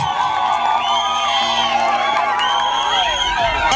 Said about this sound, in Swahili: Tumuinue Yesu, tumuinue kwa vigelegele na makofi mazito